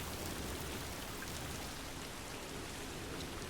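Timefall rain in Death Stranding on PS5 Pro falls as a steady, even hiss of downpour, moderately faint and unbroken from start to finish with no voices.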